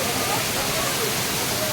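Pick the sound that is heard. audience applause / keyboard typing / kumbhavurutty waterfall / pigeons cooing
kumbhavurutty waterfall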